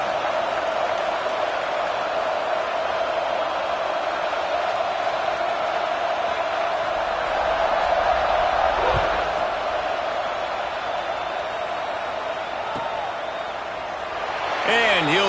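A stadium crowd at a college football game against Michigan holds a steady, distant roar before kickoff, with a commentator's voice over it.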